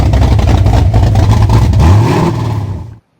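A 1995 Ford F-150 pickup with the 300 straight-six and floor-shift manual gearbox revs loudly and close up, its rumble swelling toward the end before cutting off abruptly.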